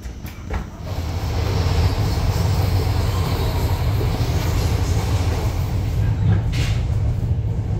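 A Romanian passenger train rumbles steadily with continuous low clatter and rolling noise, heard close up from on board with no talking.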